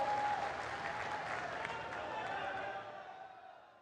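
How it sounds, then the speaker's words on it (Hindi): A large crowd at a tribal gathering applauds to welcome Prime Minister Modi, dense sustained clapping that slowly tapers off, with a voice over the cheering. "जोरदार ताली बजाकर आदरणीय प्रधानमंत्री जी का स्वागत करें"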